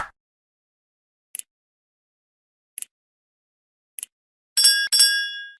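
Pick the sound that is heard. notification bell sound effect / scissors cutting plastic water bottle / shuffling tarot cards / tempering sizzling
notification bell sound effect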